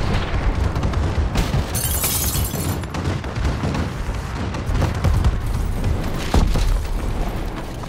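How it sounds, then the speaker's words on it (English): Explosions from a friendly bombing run in Call of Duty: Advanced Warfare on the SideShow map rumble as a continuous dense barrage of booms and crashes, loud and close, with a few sharper blasts. "Friendly bombing run incoming."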